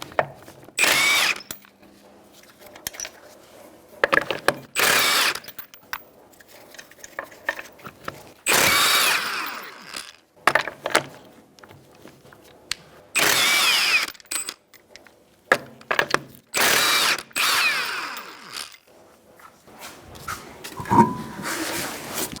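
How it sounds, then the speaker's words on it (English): A power impact tool with a 21mm socket spins off the wheel lug nuts of a 2010-2013 Kia Soul, loud close bursts of whirring and rattling repeated about eight times with quiet pauses between. "I'm going to use a 21mm socket to take off the wheel."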